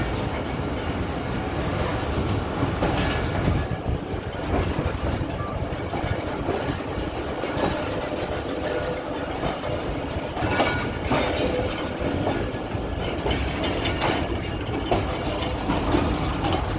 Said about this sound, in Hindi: हज़ारा एक्सप्रेस यहाँ से चल पड़ी है